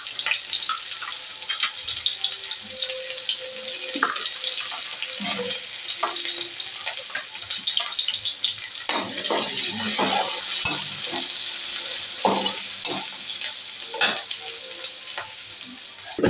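Chopped onions hit hot oil with cumin in a pan for aloo soya chunks sabji, giving a steady close sizzle broken by repeated scraping and clattering of a spoon as they are stirred.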